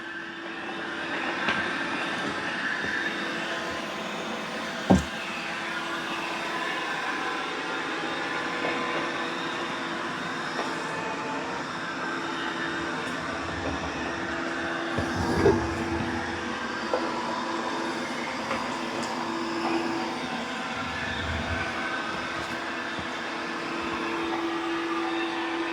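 A robot vacuum mop hums steadily and faintly as it cleans a floor, its motor drone constant with a few soft bumps and clicks throughout.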